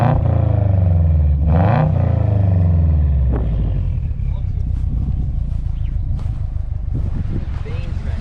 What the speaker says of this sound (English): Show people what a true STI sounds like.